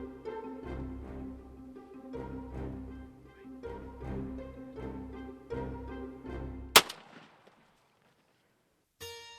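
A hunting shotgun fitted with a red dot sight fires once at a wild turkey tom outdoors. A single sharp, loud report cuts off steady background music, and near-silence and a brief noise burst follow.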